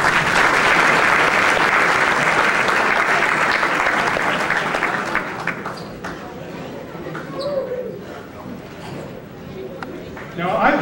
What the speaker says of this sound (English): Let's give Mr. Klosterman a round of applause.